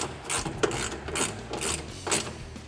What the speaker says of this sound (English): gonna take my 13 millimeter ratchet, or my 13 millimeter socket, and my 3/8 ratchet. I'm gonna tighten these up.